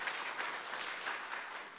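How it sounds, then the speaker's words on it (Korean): A church congregation claps to welcome visiting family members at a New Year's Sunday worship service, a steady, fairly soft patter of many hands continuing for about two seconds. "박수로 환영하겠습니다."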